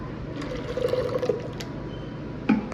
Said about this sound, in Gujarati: જો આપણે આ પાણી છે એમાં આપણે નાખી દઈશું ઠંડુ પાણી.